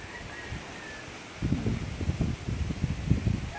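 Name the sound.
strong wind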